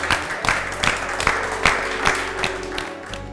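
A studio audience claps for cooking-contest contestants tied for second place in the final ranking, a steady patter of hand claps with a few sharper bursts, close and fairly loud.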